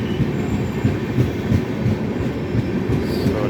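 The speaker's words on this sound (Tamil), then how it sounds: "இது வந்து லக்னோவிலேருந்து யஷ்வந்த்பூர் போகிற ஒரு எக்ஸ்பிரஸ் ட்ரெயின்." A Lucknow to Yesvantpur express train rumbles steadily past nearby, with heavy, continuous rolling wheel noise and faint clacking throughout, with no voices.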